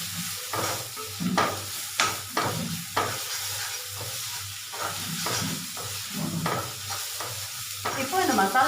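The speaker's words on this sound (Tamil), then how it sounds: "இப்போ இந்த மசாலாஸோட பச்சை ஸ்மெல் போகிற வரை நம்ம கொஞ்சம் சாட்டே பண்ணணும்" Masala spices for egg ghotala sautéing in a pan, a steady close sizzle broken by repeated scraping strokes of a spatula at a fairly even pace.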